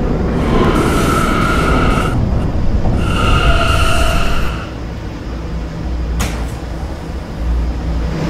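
A Roblox R179 subway train on the D line rumbles steadily at close range, with tonal motor whines rising twice before the noise settles into a quieter rolling drone and a sharp brief clank.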